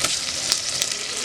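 Garlic and ginger fry in a pan with a close, steady hiss and crackle of hot oil, no voices over it.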